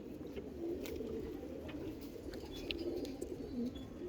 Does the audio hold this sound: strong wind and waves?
no